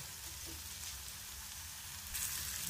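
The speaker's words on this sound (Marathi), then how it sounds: "आता आपण ह्याच्यामध्ये घालूया आलं आणि लसणाचा ठेचा आणि हे मस्त आपण फ्राय करून घेऊया" Ginger-garlic paste frying in a pan with onion and tomato, giving a soft, steady sizzle and crackle that stays even and fairly quiet throughout, with no talk.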